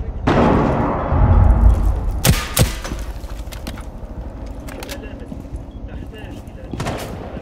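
Gunfire and heavy thuds sound in a Rainbow Six Siege Border team deathmatch bomb round, a few sharp cracks and impacts breaking through continuous background noise while players talk.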